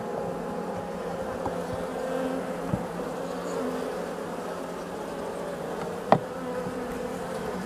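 Honeybees hum and drone around an apiary hive, a steady close buzzing swarm that holds constant throughout, with one sharp knock near the end.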